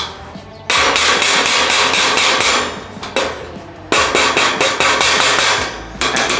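Repeated hammer blows drive nails into a wooden wall frame for a knock-down house, a fast steady run of sharp metallic strikes with brief pauses between bursts, loud and close with no talking.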